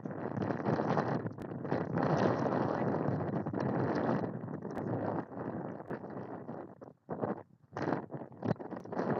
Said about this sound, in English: It's also very windy. I don't know if you guys can hear the wind.